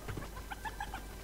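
Chicken clucking in a video game where a chicken is carried into the late game, a run of short, close clucks repeating in a quick irregular rhythm, alone with no talk.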